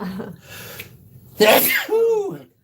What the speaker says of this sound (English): sorry about that. Had a little sneeze.